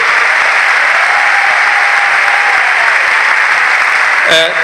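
Loud, sustained applause from a large audience at a stage event, a dense continuous wash of clapping lasting several seconds before fading off at the end.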